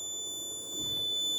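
The alarm buzzer on a vehicle accident detection kit sounds as a steady, high-pitched electronic tone held unbroken for the whole moment, close and fairly loud over a faint low hum.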